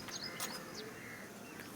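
Pigeons kept by a fancier give faint, scattered chirps and short calls outdoors, a few brief notes over a quiet background hiss with no talking.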